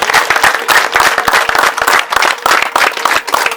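Audience at a Rwandan wedding breaks into loud, sustained clapping that fills the whole stretch, with dense overlapping claps from a crowd close by and no speech.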